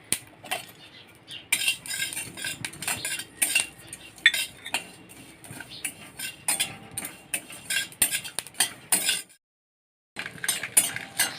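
Cumin seeds, a small piece of cinnamon and black peppercorns stirred in a dry kadhai for metkut, giving a steady run of scraping, clinking strokes of a spatula against metal, close up, with a short silent gap near the end.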